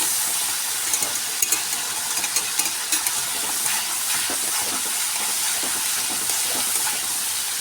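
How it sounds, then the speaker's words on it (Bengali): Tomato paste sizzles steadily in hot oil for a pomfret curry, with a constant close hiss and scattered scraping ticks from a spoon stirring through the pan. "এরপর আমি এখানে দিয়ে দিলাম একটা মাঝারি সাইজের টমেটো পেস্ট। তো আমি এটাকে ভালো করে কষিয়ে নেব টমেটোটাকে।"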